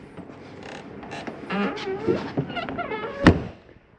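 Adjustable metal foot on a 2022 Jayco Jay Flight 24RBS travel trailer being pressed into place and locked, a series of close creaks and scrapes ending in one sharp metallic clunk, with no talking.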